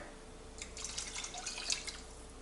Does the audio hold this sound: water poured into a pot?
yes